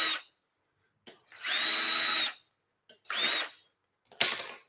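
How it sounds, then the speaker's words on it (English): A small drill spins up in three short bursts with pauses between, its whine carrying a scratchy brushing sound as a brass wire wheel scrubs aluminum off a file. "Go over it gently with this little brass wheel on my drill."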